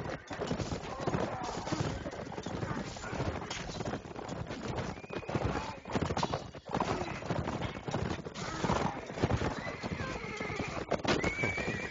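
Horse archer units in a multiplayer strategy video game battle, rapid clip-clopping hooves and whinnies in a busy, continuous mix of game sounds, fairly faint overall.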